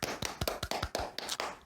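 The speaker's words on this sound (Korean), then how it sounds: "박수" Close, crisp hand clapping during a one-on-one electrical theory tutoring lesson: about eight sharp claps in a quick, steady rhythm, heard on their own with no talking.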